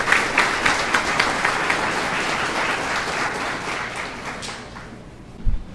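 Audience applause at a solemn town council session honouring a Bradesco bank manager, a sustained round of many hands clapping that gradually fades out, ending with a soft thump.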